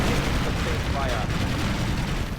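Battlefield gunfire in Ground Control 2 video game, a dense, continuous roar of shots and blasts at steady loudness with no gaps, masking any other detail throughout.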